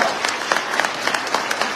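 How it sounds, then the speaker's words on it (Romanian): A crowd at a political rally in Craiova, Romania applauds steadily, with dense continuous clapping and faint voices mixed in. "Vă rog frumos să aplaudați"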